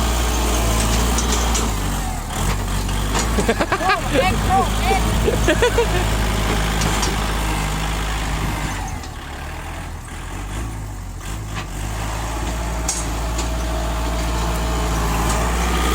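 A farm tractor engine runs steadily and loud, with a deep continuous rumble and a rattling mechanical clatter. Someone talks over it throughout.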